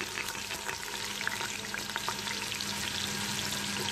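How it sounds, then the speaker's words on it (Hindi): Onion sizzles in hot oil with whole spices for a desi chicken curry, a dense, steady frying hiss with light stirring scrapes, close and continuous, no voices. "तो इसमें अब इस तेल पे प्याज चला जाएगा"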